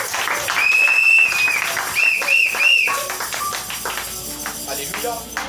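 A church congregation claps and cheers in praise of the Lord, the applause swelling in bursts under a sustained organ or keyboard tone with voices mixed in.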